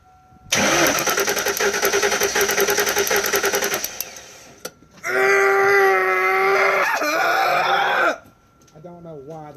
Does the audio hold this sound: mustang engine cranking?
yes